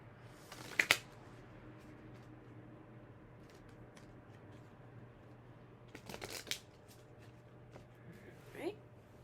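A Rune Oracle card deck is shuffled in two short, crisp bursts, one near the start and a longer one midway, with soft room noise and a low steady hum between them.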